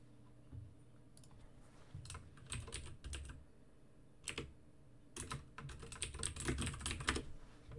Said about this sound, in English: I hope you might be able to hear my keyboard clicking away too as I send messages.